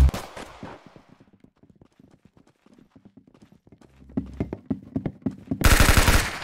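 Rapid gunfire in the online shooter game Arsenal: quick bursts of sharp shots, then a denser, louder volley and a final blast of noise, with no talk.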